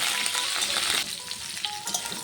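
Cauliflower and potato pieces sizzle and fry in a pan while being stirred, a bright crackling hiss with occasional scraping, loud at first then settling slightly quieter, with no voice.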